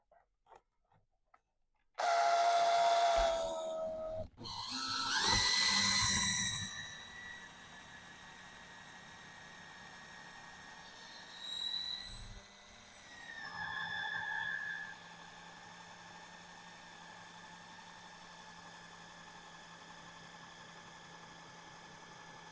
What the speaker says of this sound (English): that's because I'm drilling all the way through a 2x4 as well